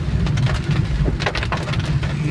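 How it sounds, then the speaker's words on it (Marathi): Loud, dense rain hisses continuously at a CNG fuel pump, with a constant rushing wash and scattered spatter. "आपण आता निघालोय सध्या CNG पंपावरती आणि खूप पाऊस पडतोय मित्रांनो"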